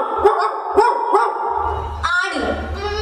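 A human voice imitates a dog barking, giving a few sharp, close barks followed by a longer yelping whine, loud and alone without other talk.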